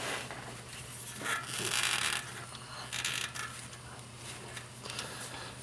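A wrench works loose a car's spark plug in a few soft, metallic clicks and ratcheting scrapes, quiet and close, over a steady low electrical hum.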